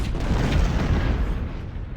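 Artillery batteries in the Civil War strategy game Ultimate General: Civil War during the Battle of Cold Harbor, a dense rumbling roll of cannon booms blending into continuous heavy low thunder.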